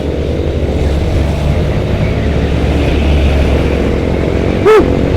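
A motorcycle on a busy road between Bandung and Jakarta runs with a loud, steady engine drone and heavy wind rush, holding a constant pitch throughout, with a brief horn-like tone sounding near the end.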